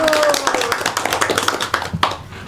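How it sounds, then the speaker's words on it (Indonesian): Classroom students clapping during a civics microteaching lesson, a short patter of many hands in quick uneven claps, close by, with a voice speaking at the start. "beri tepuk tangan dulu"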